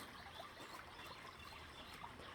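Faint, continuous trickle of water running somewhere nearby on a morning walk, soft and steady with no voices.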